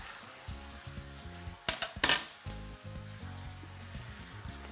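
Fresh chilies sizzle as they hit a hot pan while making harissa, with a loud burst of frying and spitting in the middle and a low steady crackle before and after.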